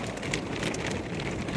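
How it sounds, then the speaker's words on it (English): Heavy rain pours down outdoors on the road, a dense, loud, continuous hiss of drops with no talk over it. "This is a serious rain."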